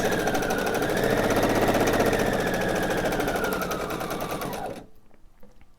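A sewing machine stitches quilt diamonds at a steady rapid clatter for nearly five seconds, close and loud, then stops abruptly into near silence.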